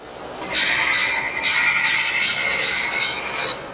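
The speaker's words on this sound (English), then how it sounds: "So he's lathing right now, eh? Yep. This is the outer lathe." A Sabian Stratus cymbal being cut on the outer lathe at the factory, a steady metallic scraping rasp with rhythmic pulsing swells roughly every half second, close and loud with no voices heard.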